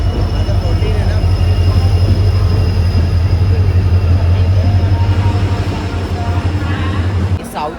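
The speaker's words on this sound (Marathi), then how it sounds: "सो गाडी आपली आलेली आहे, हीच गाडी आहे आपली" The Garib Rath express, LTT–Ernakulam, stands at Mangalore Junction station. A loud, steady low rumble with a droning hum continues for several seconds, then cuts off near the end.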